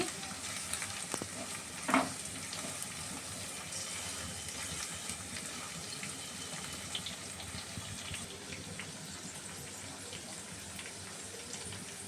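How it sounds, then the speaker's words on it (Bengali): Kachki fish and spices stirred in a frying pan, a faint continuous sizzle with soft irregular stirring scrapes and a brief clink, no voices. "একটু মিক্স করে দিচ্ছি।"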